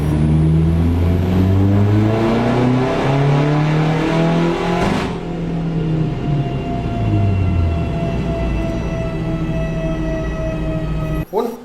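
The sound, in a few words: car engine on dyno test run, Socar Nano Super Diesel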